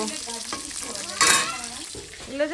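Fish frying in a pan on a home kitchen stove, a steady close sizzle with stirring and scraping, swelling into a louder burst of crackle partway through.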